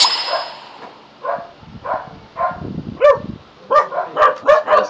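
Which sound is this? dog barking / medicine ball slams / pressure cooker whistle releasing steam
dog barking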